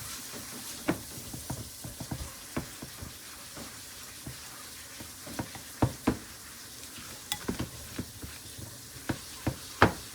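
A spoon works through a thick lasagna cheese mixture in a bowl, giving irregular wet squelches and scrapes close by, with repeated sharper knocks and no talk.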